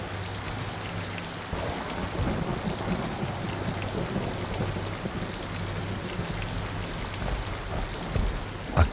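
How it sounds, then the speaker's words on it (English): Steady rain falls constantly with a dense, even hiss and low rumbling beneath, continuous throughout with no voices. "As he sat, the rain fell constantly."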